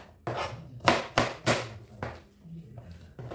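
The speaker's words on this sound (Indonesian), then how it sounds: "Oke, kita iris kasar. Bawang merah." Shallots coarsely chopped with a knife on a stone mortar (cobek): about six sharp, close knocks in an uneven rhythm, with softer scraping between strikes and no talking.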